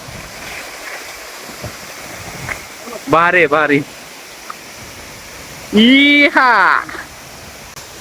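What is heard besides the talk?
Rautwadi waterfall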